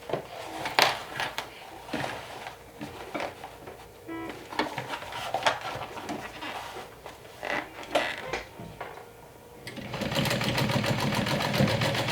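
A sewing machine top stitching a multi-pocket bag that converts between handbag, backpack and crossbody, running in short bursts and then a steady, louder run near the end.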